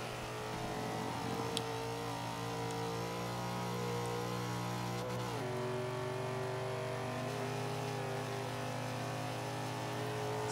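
A Nissan Silvia Spec R engine in Forza 5 holds a steady, sustained drone at high revs, with a brief dip and shift in pitch midway before climbing and pulling on continuously, loud and close.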